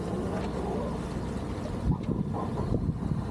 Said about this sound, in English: The wind's beginning to fill in now, so hopefully we can get under sail and get the mainsail sorted.